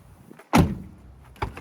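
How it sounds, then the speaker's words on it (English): A Jeep Wrangler JKU door with a soft top installed shuts with one solid thud, followed a moment later by a lighter knock, close by and without talk. "We're going to go ahead and close the door."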